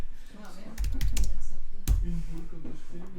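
Fast clattery typing on a computer keyboard, with clustered key taps throughout, heard under someone speaking French.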